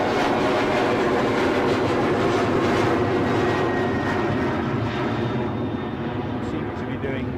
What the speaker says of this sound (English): It's the Amsterdam departure, German wings.